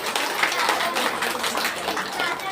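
An audience at a Bhagavat Katha in Andheri East, Mumbai, claps for the devotional musicians, a broad, even wash of many hands sustained throughout.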